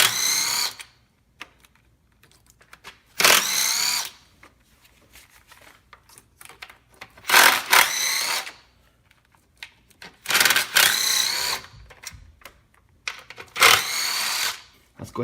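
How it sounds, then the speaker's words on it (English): Power tool backing out 8mm bolts on a Ford 3.5L/3.7L Duratec V6 engine, heard as several short, loud, close bursts of whirring drill sound separated by quiet gaps. "On top here, there's a bunch of 8mm bolts. Just start taking those out."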